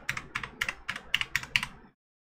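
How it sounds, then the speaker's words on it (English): Fingers tap out an IP address on a computer keyboard, a quick close run of about a dozen crisp clicks in small bursts, then silence. "Type the IP."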